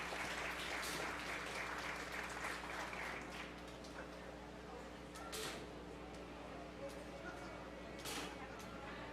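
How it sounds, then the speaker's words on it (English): A crowd at a 4-H fair beef show applauds the competitors in an Angus heifer class, steady moderate clapping filling the arena with a hum of background noise and some talk mixed in. "Let's give those competitors a round of applause."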